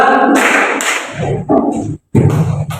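A standing group of students in an Islamic jurisprudence class claps in separate, spaced bursts, each a loud cluster of hands struck together, with short pauses and one clear silent gap between them.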